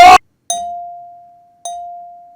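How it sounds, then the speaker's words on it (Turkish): A simple clean bell sample from music software rings twice, each a bright struck tone that decays slowly into silence, following a short burst of another sound at the start. "Böyle çok basit bir zil koyacağım."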